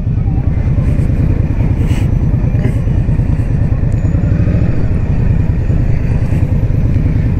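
A 2021 Indian Scout Bobber Twenty motorcycle engine drones steadily and loudly at close range, holding a constant throttle roar with little audible build.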